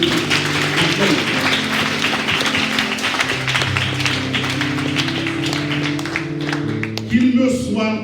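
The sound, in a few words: audience applause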